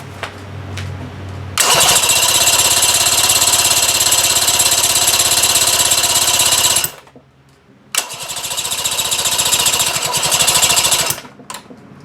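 An Evinrude or Johnson outboard motor on a 1967 Starcraft boat fires up and runs loud and buzzy for about five seconds, cuts out, then restarts and runs again before stopping, recorded up close.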